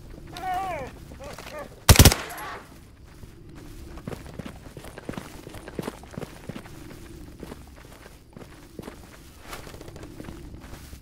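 A short, loud burst of automatic gunfire rings out in the Stalker GAMMA video game, a single sharp volley standing out early amid quieter footsteps and game ambience.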